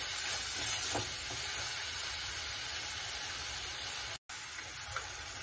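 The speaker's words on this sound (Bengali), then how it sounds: "মশলাটা কষা হচ্ছে" A spice paste for omelet curry, loosened with a little water and salted, fries in a pan, giving a steady, fairly quiet hiss and sizzle with a brief dropout near the end.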